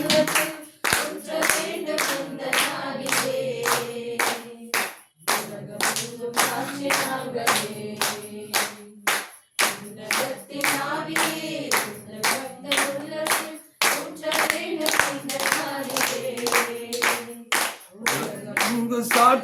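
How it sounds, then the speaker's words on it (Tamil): A congregation claps in steady rhythmic unison along with a worship song in a Tamil church service, the claps sharp and continuous over singing and music throughout. "கைத்தட்டுங்க நல்லா."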